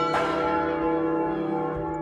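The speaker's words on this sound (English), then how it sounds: "Church bells rang across the snow-covered city." Church bells ring out with a rich, sustained metallic tone, a struck peal swelling and lingering alone.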